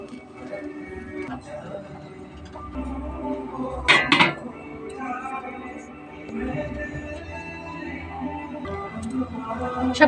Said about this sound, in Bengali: খুন্তি দিয়ে এইভাবে ঘুরিয়ে ঘুরিয়ে আটাটা কড়াইয়ের চারিপাশে লাগিয়ে নেব